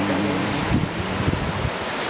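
Ocean waves and wind rush steadily at sea in the open air, aboard a boat at sunset, with a continuous broadband wash and a few low swells rising and falling, no talking.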